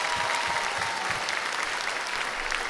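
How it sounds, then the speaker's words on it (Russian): Audience applause at a concert, a dense, steady wash of many hands clapping that fills the whole stretch evenly and loudly. "Андрей, тебе аплодисменты!"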